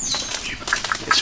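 A rescued bird beats its wings in a rapid flurry, struggling to get away near a branch on an early morning kayak outing; the flapping is close and loud, with a few sharp chirps breaking through.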